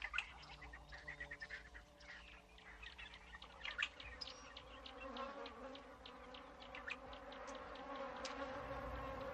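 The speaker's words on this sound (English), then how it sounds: "African bees, like everything else, are desperate for sustenance." Swarms of African bees drone steadily on a hot dry savanna day, a dense close buzzing that persists throughout with occasional faint bird chirps mixed in.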